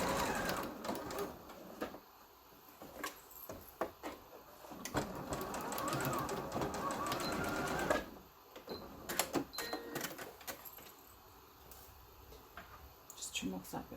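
A sewing machine runs in a few close bursts while stitching ribbon into the toe of a Christmas stocking, with quiet handling noises between the runs.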